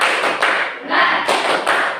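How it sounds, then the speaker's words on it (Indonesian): A class group doing the tepuk semangat clapping chant: loud, close bursts of clapping in a quick rhythmic pattern, with short breaks between the phrases. "Kalau lemes, tepuk semangat dulu coba."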